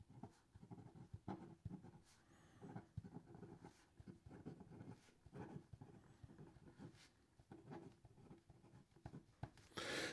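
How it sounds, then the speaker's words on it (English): A Diplomat Nexus fountain pen with an extra fine nib writes on paper, making soft, continuous scratchy strokes with rhythmic short scrapes, faint and close, with no other sound around it. "So here we go with the rest of the writing sample."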